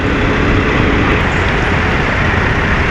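Dense, loud road traffic rumbles steadily near a port where passengers board a Montenegro Shipping Lines ship, engines of cars and buses blending into a continuous roar without pauses.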